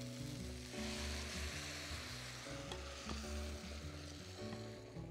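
Coconut milk poured into a hot pan of Indian chicken curry sizzles and fries loudly and continuously, with stirring and clinking of a utensil, no talking.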